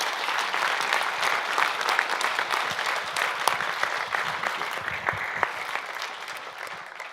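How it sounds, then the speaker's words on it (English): Warm applause from an audience at a university celebration, honoring the organizing team; dense, steady clapping from a crowd that holds through the whole stretch, fairly near and even, tapering slightly at the end. "Please, a warm applause for them"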